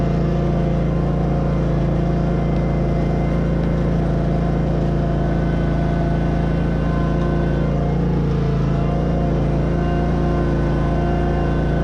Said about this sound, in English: We'll see if a Bobcat can move it.